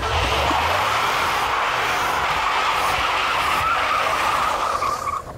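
A supercharged Cadillac Escalade launches hard, its tires skidding and squealing loudly and continuously over a roaring engine for several seconds, close up, with no talking.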